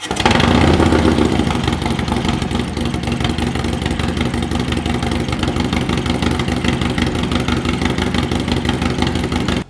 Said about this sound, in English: I'm ready for the first fire up